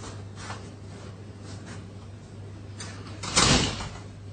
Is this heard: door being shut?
yes